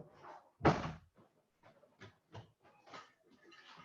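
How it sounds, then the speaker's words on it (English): A door closing in a home with children nearby, heard as one loud, close thud followed by quieter shuffling knocks and faint bumps. "maybe I should close the door"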